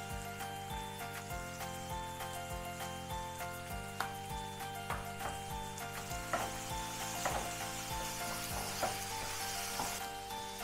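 Tomato and turmeric sizzle steadily in a pan for masala dosa filling, a continuous frying hiss with occasional stirring ticks, all under background music.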